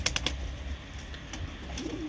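Pigeons on a rooftop terrace give low, soft cooing with a few brief sharper calls near the start, steady and close amid faint outdoor background.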